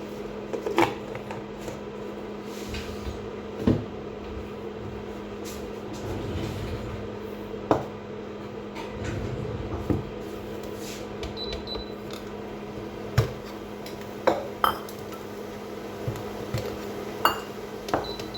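Steel pots clink and clatter on an induction stove while tea is made, a series of sharp metallic taps and knocks scattered over a steady low hum in a quiet kitchen.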